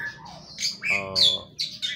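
Birds in an aviary calling close by, a quick burst of chirps, squawks and tweets overlapping within two seconds, no talk.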